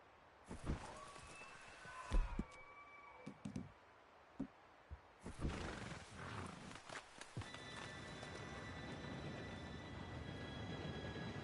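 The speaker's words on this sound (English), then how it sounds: "Train should be here any minute now." Horses snort and hooves clatter in Red Dead Redemption 2 as a train arrives, building into a low rumble with long, steady squealing tones from about halfway through, quiet and somewhat distant.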